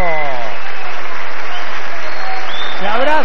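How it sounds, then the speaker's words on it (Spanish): At the end of a boxing fight, the crowd applauds with loud, dense, continuous clapping and cheering. A commentator's voice is heard over it at the start and end. "Se abrazan y la gente reconoce, aplaude."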